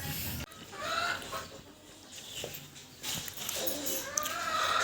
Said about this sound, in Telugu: కోళ్ళు కుక్కరు అంటున్నాయి